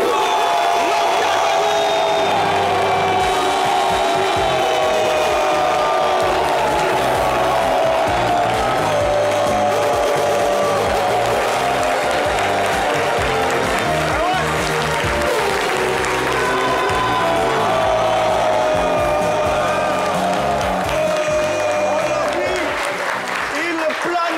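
Sustained applause and crowd noise over loud music fill a studio as a film director, hailed as best director of 2024, is welcomed onto a television talk show, holding steadily throughout.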